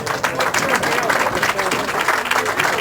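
Applause from the crowd at a televised bowling tournament of champions, a steady burst of clapping lasting a few seconds with a commentator talking over it.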